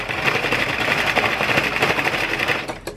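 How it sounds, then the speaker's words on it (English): An Addi Express knitting machine is cranked by hand while knitting a twist headband, giving a continuous close clattering whir with a fast, even mechanical rhythm throughout and no voices. "you're just gonna crank"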